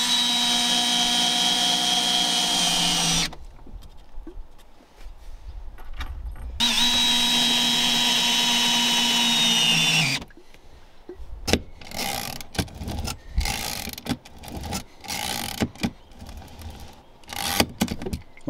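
A power drill drives screws into plywood on a 1940 wooden boat's bow, whining in two long bursts with pauses between, followed by clattering and scraping of handling work nearby.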